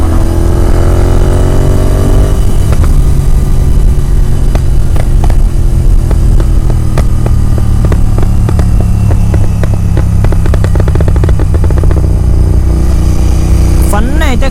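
A tuned GT 650 motorcycle pulls hard up through its gears, the loud engine note climbing in pitch with each gear while someone talks over the steady roar.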